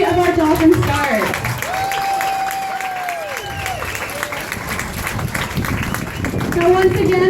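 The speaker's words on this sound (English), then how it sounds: "give a round of applause to all 3 of our dolphin stars" Crowd applause at a dolphin show, clapping running throughout under a loud announcer and whistle-like tones, steady and fairly close.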